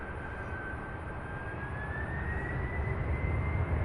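A brand-new Boeing 767 jet at Louisville, heard as a jet roar with a high whine that slowly rises in pitch, the rumble building louder toward the end.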